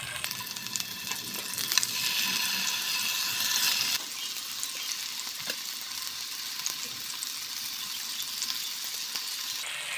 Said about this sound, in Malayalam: എണ്ണ ചൂടായി വന്നിട്ടുണ്ട് നമുക്ക് ഈ കോവയ്ക്ക് ഇട്ട് കൊടുക്കാം